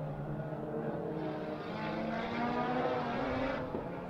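A race car on a lap of the Circuit of the Americas, its engine note falling and rising as it brakes into a corner, heard steady and at a distance.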